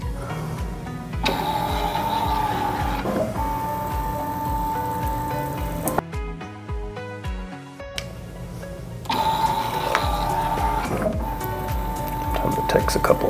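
Phoenix Contact Thermomark thermal transfer printer feeding and printing labels, a close mechanical whirring and buzzing in several passes with brief stops between them, heard alongside talk.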